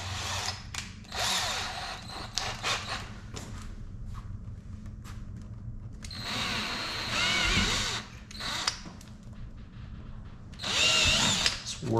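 A power drill bores a hole while a stage 2 or stage 3 conversion kit is installed on a C7 Corvette, with several whining bursts of drilling and short pauses between, close by, alongside a few thumps.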